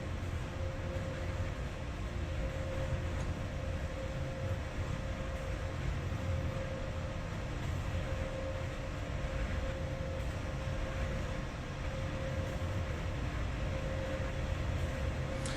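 Freight train with 25 long wagons running in the Train Simulator 2020 game, a steady rumbling drone with a constant low hum throughout, no talking.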